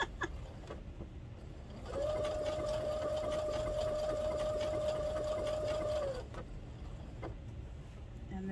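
Sewing machine stitching an applique onto a t-shirt, a steady slow whirring hum with a rapid needle rhythm lasting about four seconds, preceded and followed by quieter handling clicks.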